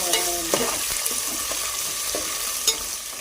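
Fish curry ingredients frying and being stirred in a pan, a steady close sizzle broken by scattered scrapes and clinks of the spoon against the pan, with no voices.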